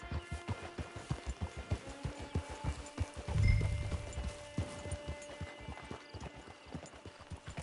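Horse hooves clip-clop steadily at a trot in Red Dead Redemption 2, a close, even rhythm of hoofbeats with a brief louder thump midway and a faint whinny.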